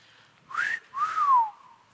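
Someone whistles two short rising-and-falling notes, the second longer and sliding downward, clear and close against near silence.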